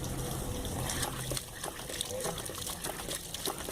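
Water running and trickling from a Gilman ram pump while it operates, a steady close splashing flow with faint knocks, under a man's speech.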